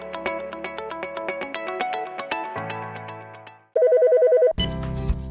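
A CapTel captioning telephone rings with a rapid, pulsing electronic ringtone. A steady electronic tone follows, then a brighter burst of sound.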